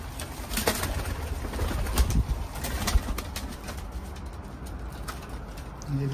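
A teddy pigeon in London coos repeatedly in soft, low, throaty calls close to the microphone, with a few sharp clicks and brief rustles between them.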